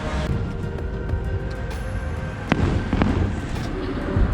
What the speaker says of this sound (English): you can feel the vibrations of the fireworks going off